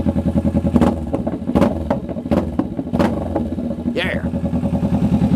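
Kawasaki Vulcan S fitted with a Two Brothers Racing exhaust and Power Commander V idles loudly with a steady throbbing pulse, broken by several sharp popping crackles from the pipe, while a person shouts briefly.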